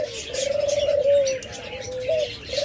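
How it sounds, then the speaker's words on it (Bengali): Australian diamond doves coo in a soft, clear, drawn-out tone. Calls rise and fall across the stretch, with faint chirps and cage noise in the background, and no talking. "আমাদের কাছে রয়েছে অসংখ্য পরিমাণ অস্ট্রেলিয়ান ঘুঘু পাখি,"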